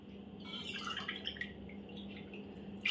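Water poured into a pressure cooker holding lentils for a puran poli filling, heard as a quiet, steady trickle and dripping with a slightly louder splash at the end.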